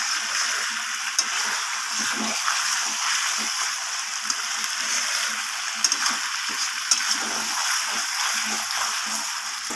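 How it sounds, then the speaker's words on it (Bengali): Hot water going into chicken curry cooked with potato, papaya and carrot gives a steady, close hiss and sizzle, with faint stirring clicks throughout and no talking. "এরপর আমি এখানে গরম জল অ্যাড করে দেব।"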